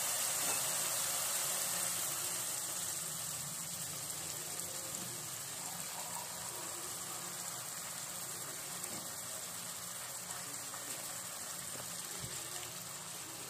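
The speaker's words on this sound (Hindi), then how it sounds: "अब हम इसमें पानी ऐड करेंगे।" Water pours in a steady, continuous gush into a cooking pan of fried masala for chana dal pakodi curry, loud and close with no talking.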